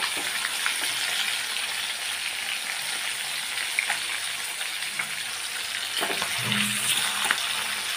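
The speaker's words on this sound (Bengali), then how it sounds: "ভেজে নেবো এইভাবে সবগুলো মাছ" Snakehead fish pieces frying in hot oil, with a steady close crackling sizzle throughout and a brief clatter of movement near the end.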